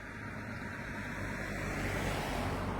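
A car goes by on a street, a broad steady whoosh of tyres and engine that swells slightly toward the end, fairly loud with no voices.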